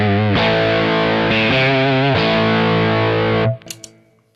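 An electric guitar plays through a Rat distortion pedal with the drive set at noon, giving loud, thick sustained chords that change a few times, then cut off into a brief noisy decay.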